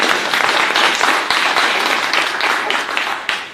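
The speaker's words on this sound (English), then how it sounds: "So a big round of applause, please." An audience at a startup accelerator presentation breaks into loud, dense applause that holds steady for several seconds and then tapers slightly toward the end.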